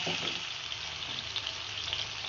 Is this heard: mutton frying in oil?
yes